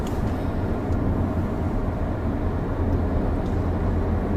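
A car's engine drones steadily during a driving lesson, a dense, constant low rumble mixed with road noise inside the cabin and no talking.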